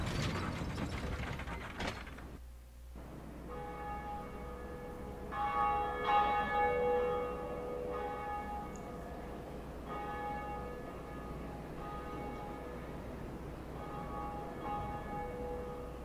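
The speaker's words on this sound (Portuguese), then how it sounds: "logo após eu tocar o sino aqui ele vai aparecer." A church bell rung in the Undead Parish of the game Dark Souls gives sustained metallic tones with long ringing overtones that rise and swell over the game's mechanical ambience, with no one speaking.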